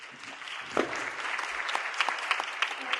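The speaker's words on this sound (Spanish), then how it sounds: "Un aplauso." Audience applause welcoming a speaker from a cultural association at a culture conference in San Luis Potosí, a steady wash of moderately faint clapping with a few sharper claps standing out.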